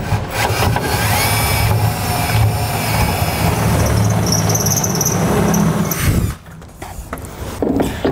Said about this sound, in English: enlarge our holes that we drilled to a half inch diameter. And for that, I'm gonna use a step bit